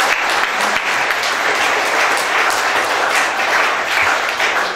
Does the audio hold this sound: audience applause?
yes